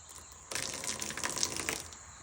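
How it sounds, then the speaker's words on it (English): Water runs from a jug through a PVC poultry nipple watering line in a steady gushing stream that starts abruptly, continues for about a second and a half, then stops, close and moderately loud. "Let's just see if the water leaks out of the jug."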